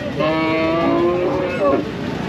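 Cattle moo loudly and steadily at the Talgachi cattle market, long drawn-out lowing calls close by with a second call near the end, over a busy outdoor background.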